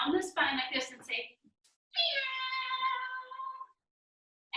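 During a baby and parent yoga class, someone speaks briefly, then draws out a long, tonal voiced meow imitating a cat, close and clear, followed by silence.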